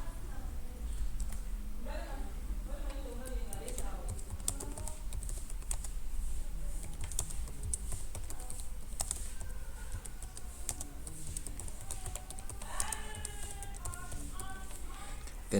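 Someone types an article title on a computer keyboard, a steady run of fast clicking keystrokes across the whole stretch, with other faint voice-like sounds in the background.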